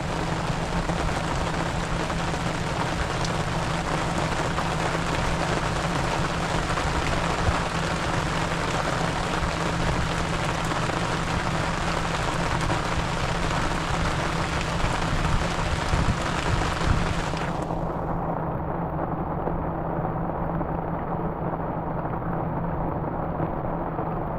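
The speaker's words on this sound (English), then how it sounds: "Just when you thought it couldn't rain any harder." Dense, steady downpour of heavy rain hissing and drumming on surfaces nearby on a salmon-trolling boat on West Grand Lake, unbroken for the whole stretch with no talking.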